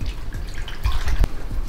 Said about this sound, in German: Ich spüle mir kurz die Hände ab